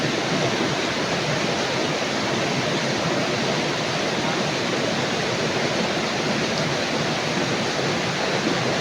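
Water flowing in a creek, a continuous close broadband rush with no pauses and no voices.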